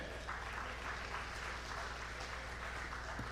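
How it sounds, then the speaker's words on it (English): An audience at a national diaspora day youth summit applauds as an official is called to the podium, a faint, uniform spread of clapping heard from some distance. "Give her a resounding applause."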